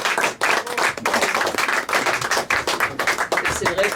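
Audience applause from a French live show, a dense, continuous clapping of many hands, loud and close, holding steady for the whole stretch with a brief dip near the start.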